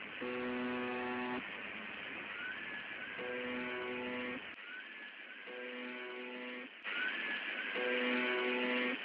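UVB-76 Russian shortwave radio station buzzer: repeated harsh, droning buzz bursts over a hiss of static, with a faint wavering tone like a distant scream drifting behind them, all quiet and thin.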